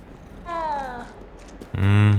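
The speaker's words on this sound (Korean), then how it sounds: "뭐야, 고양이들 다 뭉쳐 있잖아." Cats in Hogwarts Legacy meowing, with one drawn-out mew followed by a louder, closer meow, while a person talks quietly around them.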